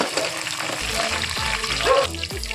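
Onions and green chilies frying in a pan for chicken biryani, a steady close sizzle broken by repeated spoon scrapes and stirring knocks, no voices.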